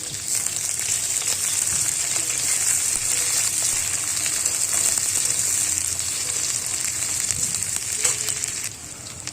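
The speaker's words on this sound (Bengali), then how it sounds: "এবার দিয়ে দেব পেঁয়াজ কুচি পেঁয়াজ কুচি দিয়ে আবার নাড়তে থাকবেন" Chopped onions sizzle steadily in hot oil while being stirred for a Bengali rohu fish curry, a continuous loud frying hiss with occasional scraping from the spoon and no talking.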